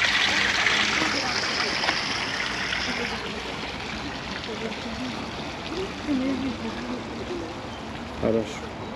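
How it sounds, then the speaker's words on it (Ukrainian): A small stream trickles steadily through a city park in Lviv in spring, a continuous close wash of water with faint outdoor noise and a few brief knocks near the end. "А це струмочок."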